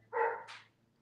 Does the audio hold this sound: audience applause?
no